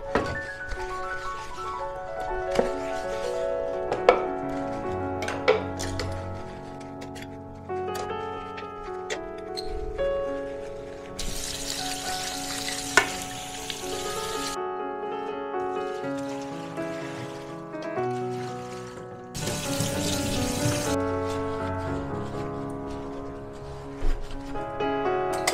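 Dishes are washed by hand under running water in a home kitchen, with clinks and knocks of utensils and plates over a steady trickle, punctuated by two bursts of stronger tap flow.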